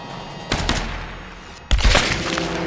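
Two loud, sharp sniper rifle reports ring out in Tomb Raider 2013, the second heavier and closer than the first, each trailing off into echoing game ambience.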